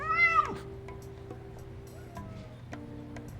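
A caracal cat in the Love and Deepspace game gives a single short meow near the start, then faint ticks and soft tones follow over a low steady hum.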